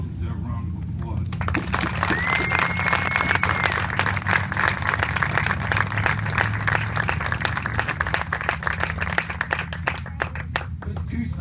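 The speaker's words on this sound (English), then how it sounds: "Please join me in giving all of them a very well-deserved round of applause." Sustained applause from the audience at a Hall of Fame induction ceremony honoring athletes, steady dense clapping throughout with a low room rumble and crowd murmur underneath.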